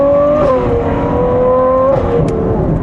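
A GTS convertible sports car engine pulls hard through its mid-range, loud and close, with rising pitch, a gear change around halfway, then another upshift and continued acceleration.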